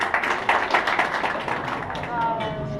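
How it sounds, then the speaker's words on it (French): A small audience at a French conference session claps briefly, a light scattered patter of hands mixed with voices talking over it, fading after a couple of seconds. "On peut les applaudir."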